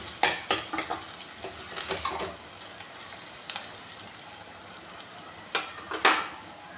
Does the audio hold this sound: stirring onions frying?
yes